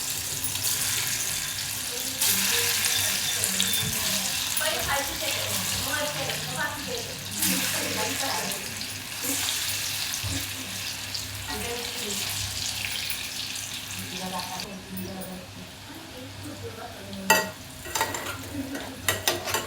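Pea and chana dal vadi slices fry in hot oil with a steady bubbling sizzle, broken by stirring, scraping and light clinks of a utensil near the end.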